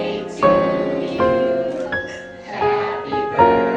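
Jazz piano playing the Happy Birthday melody in block chords, with a series of distinct chord strikes in a loose, rubato phrase, close and moderately loud, with no talk.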